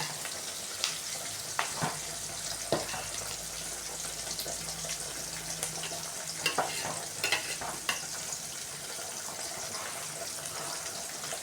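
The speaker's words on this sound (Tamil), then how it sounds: "பொதுவாகவே இந்த வெங்காயம் வந்து வதங்கிறதுக்கு ரொம்ப டைம் எடுத்துக்கும். அதனால தான் உப்பு போட்டு வதக்கிறது." Onion sautéing with salt in a pan for a Tamil okra tamarind curry, a steady soft sizzle broken by scattered clicks and scrapes of a stirring spoon, close and alone without talk.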